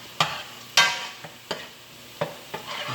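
Onion and garlic fry in a pan for fresh tomato sauce, with soft sizzling under a series of sharp stirring scrapes and taps spaced about half a second apart.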